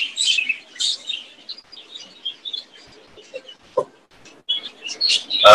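Young budgerigars in a nest box inside an aviary chirp in repeated high, thin peeps and short bursts, close and fairly clear, with brief pauses between calls and a louder rustle at the end.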